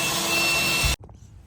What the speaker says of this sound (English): I'm gonna go ahead and drill our corners right here